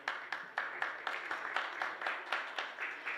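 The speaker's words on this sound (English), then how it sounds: "Please give our panel a round of applause" Clapping for a panel at a COP28 event on cooperation for greener cities comes as a steady, evenly spaced run of sharp claps, about four per second, fairly faint and with no one talking.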